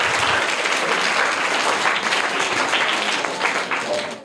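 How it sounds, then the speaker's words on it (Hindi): Loud, enthusiastic applause from an audience cheering a quiz winner, a thick sustained patter of many hands that tapers slightly near the end. "तो एक बार और जोरदार तालियां हो जाएं"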